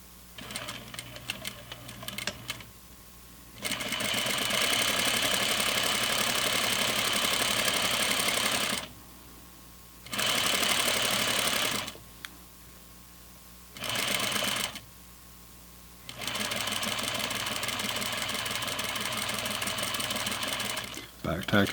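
A sewing machine stitches a pocket onto flannel pajama pants in long, steady, close bursts of rapid whirring, separated by short pauses, with quieter handling sounds in the gaps.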